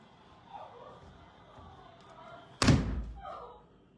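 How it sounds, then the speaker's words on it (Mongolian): A large explosion goes off at a burning building in Ulaanbaatar. One sudden heavy boom cuts through a murmur of distant voices and background noise, then rumbles briefly away. "Амар том дэлбэрэлт боллоо."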